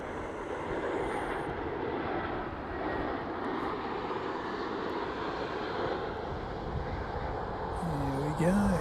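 A Jetstar airliner coming in to land gives a steady jet engine roar at moderate distance that holds throughout, with faint chirping birds at the start and end and a voice speaking briefly near the close.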